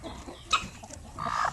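Basilan rooster chickens, native fowl kept as breeding cockerels, clucking in short bursts with a louder cackle near the end, close and clear over faint background farmyard noise.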